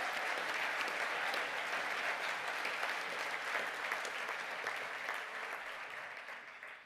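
Audience at a graduation ceremony applauding graduates, a long, dense round of clapping that holds steady and gradually tapers off toward the end.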